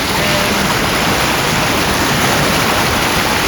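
A waterfall and stream in the Lake District produce a loud, dense, steady rush of flowing water that fills the whole clip without a break.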